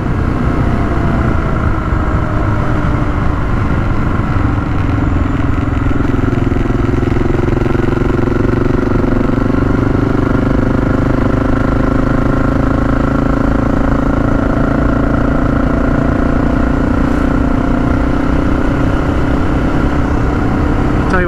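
Honda XR650L single-cylinder four-stroke motorcycle engine running steadily and loud while riding, a continuous low throbbing drone with a slight rise in pitch mid-way as the bike works through a turn, with no talk over it.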